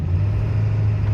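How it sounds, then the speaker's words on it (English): A 2002 Ford F250 4WD pickup with the 7.3L diesel pulls away from a stop, a steady, loud, close low engine rumble droning with little change. "So we'll go from a stop and we'll get it through the first 3 gears or so right here"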